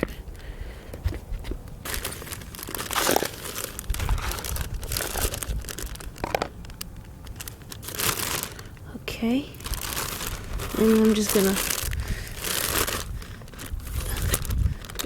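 A plastic zip bag crinkles and rustles in close, uneven bursts as black walnuts are dumped in for germinating, while someone talks briefly between the handling noises.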